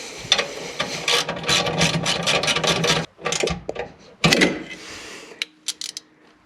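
A hand ratchet clicks in fast bursts while tightening exhaust clamps on a Jeep Gladiator during a Flowmaster Extreme Outlaw exhaust install, with pauses between strokes and a few isolated clicks at the end.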